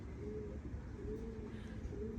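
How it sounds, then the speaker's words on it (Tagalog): Racing pigeons coo softly in a low, rolling series of calls, faint and somewhat distant beneath a constant hiss of background noise, with no voices. "Mga pasaway nating ibon."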